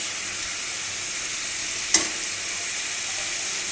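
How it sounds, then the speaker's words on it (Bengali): Food sizzles and fries steadily in a pan as it cooks down, a continuous hiss with one brief sharp pop near the middle and no talking. "এক মিনিট এদেরকে কষতে দিন বা হতে দিন, 1 থেকে 5 মিনিট"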